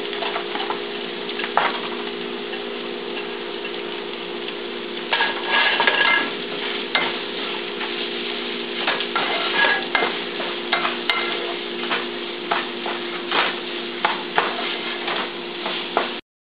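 Chopped onion with green chili is stirred in a pan for mutton sukka, giving a continuous close sizzle with frequent spoon scrapes and taps against the metal throughout, no voices.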